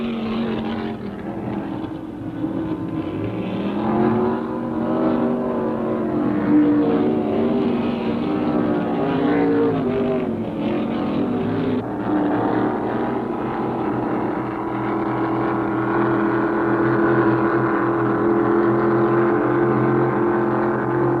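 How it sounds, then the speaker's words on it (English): Several high-powered Super Stock and K Runabout course racing boats roar continuously at close range, their pitch shifting as they accelerate and throttle through turns. "These craft are the fastest turning, fastest accelerating course racing boats in existence when set up for competition."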